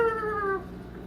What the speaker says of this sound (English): The cats are desiring my slime.